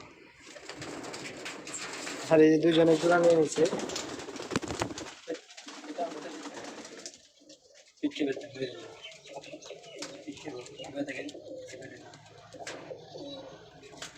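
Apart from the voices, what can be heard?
pigeons cooing in a small loft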